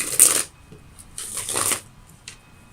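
Tarot cards are shuffled close by in two quick riffling bursts, soft papery flutters followed by a faint tap, with no voice over them.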